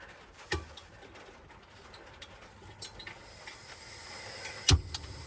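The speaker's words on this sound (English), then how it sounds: "all I hear is this incessant honking, but it's not traffic. It's the geese or the swans, whatever they are." Geese or swans honking near a roadside campsite in Iceland, faint and distant, a scattered run of calls over a low outdoor hush with two sharp knocks.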